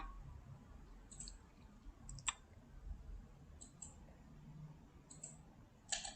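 A computer mouse clicks during photo retouching software work, with about six crisp close clicks, some in quick pairs, spaced irregularly over a quiet low room hum.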